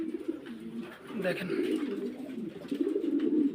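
Pigeons sold as breeding birds give low, rolling coos that continue throughout, close by, while someone speaks over them.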